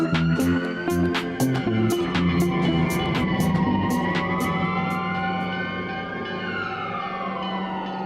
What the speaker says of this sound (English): A siren screams out into the night, a banshee howling and wailing to the dark city.